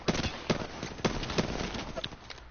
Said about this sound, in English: Dude, gunshots.